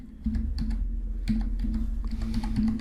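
Code being typed on a computer keyboard, irregular light key clicks in quick bursts over a steady low electrical hum, with no speech.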